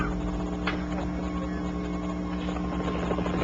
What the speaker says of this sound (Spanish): donde un helicóptero aterraba para transportarlo al hospital